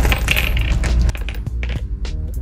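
Old Spanish-era Philippine coins clatter onto a hard surface in a loud metallic jumble, then a few lighter separate clinks and rattles follow as they settle.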